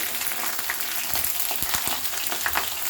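Eggplant frying in a pan over a high gas flame while being stirred, a dense continuous sizzle with occasional soft knocks of the spoon against the pan.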